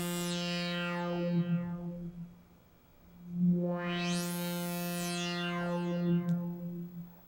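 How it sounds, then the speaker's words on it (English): A Roland JP-8000 synth holds a sustained buzzy note while its filter sweeps slowly open and closed twice, the brightness swelling and fading in smooth arcs, clean and alone. "let's imagine we have a motion set up that is opening and closing the filter"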